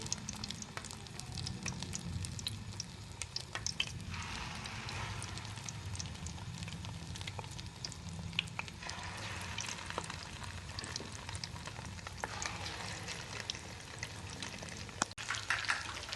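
Potato nuggets fry in hot oil over medium heat, a steady close crackling sizzle with faint pops and stirring, continuing without talk.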